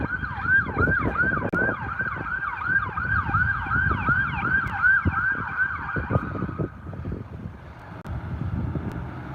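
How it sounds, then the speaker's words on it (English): An ambulance siren wails in fast repeating sweeps, loud and close, over rumbling traffic at night in Guelph, then fades as the vehicle moves away. "We got an ambulance coming."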